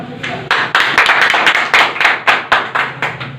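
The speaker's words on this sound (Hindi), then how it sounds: "ताली जोरदार होनी चाहिए।" An audience at a direct-selling business presentation claps in unison, a loud run of about a dozen sharp, evenly spaced hand claps close by with no talking.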